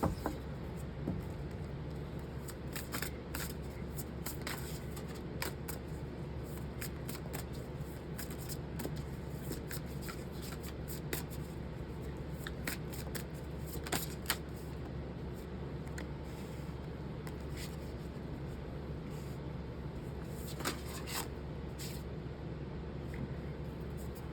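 A tarot clarifying deck being shuffled, soft repeated riffles and card flicks in irregular bursts near a quiet room hum, faint and close, with no voices.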